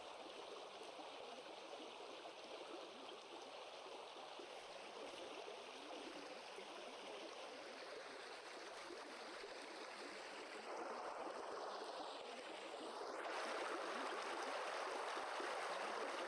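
Strong, pushy stream water rushes continuously, a steady broadband roar of flowing current that swells a little louder toward the end, with no voices over it.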